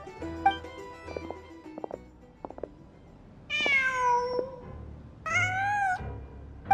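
An in-game cat in Genshin Impact meows twice, two clear drawn-out calls standing out over a quiet bed of soft clicks and ambient game sound, with no voices.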